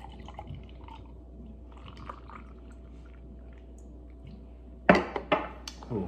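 Noda Radio Haze beer poured into a glass, a few wet splashing glugs and drips near the end after a long quiet stretch.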